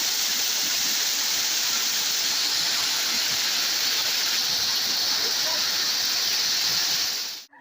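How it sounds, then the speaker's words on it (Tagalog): Sudden heavy rain pouring down in a steady, dense roar that stays loud and constant throughout, then cuts off abruptly at the end. "Kasi biglang bumuhos yung ulan."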